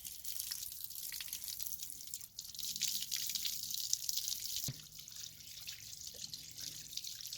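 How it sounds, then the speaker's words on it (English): A garden hose gently rinses a K&N cold air intake filter, a soft trickling, dripping patter of water that runs quietly and steadily with small splashy variations and no voices. "just, you know, lightly going over it with the hose"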